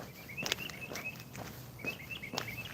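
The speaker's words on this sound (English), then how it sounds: "Listen to the birds sing." Birdsong outdoors during a walk: repeated chirps and short whistled phrases sound at moderate distance, mixed with soft footsteps and light outdoor ambience, with no talking.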